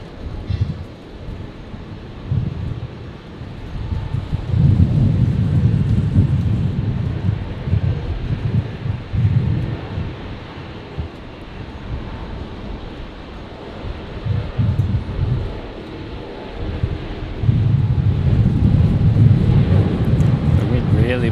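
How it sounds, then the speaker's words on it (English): Strong gusting wind buffets a camera microphone outdoors at an airport plane-spotting spot by the runway, rumbling low and surging loudly in waves, with someone talking over it. "The wind really blowing us around at the moment. It's blowing the camera a bit"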